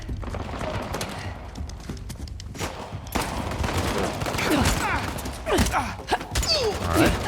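Gunfire in the video game Uncharted: The Lost Legacy, with dense overlapping bursts and shots from several weapons, the barrage growing louder in the second half amid clattering impacts.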